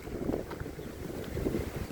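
Gusty wind blowing outdoors on a walk to a school, buffeting the microphone with rough, fluctuating rumble and no voices.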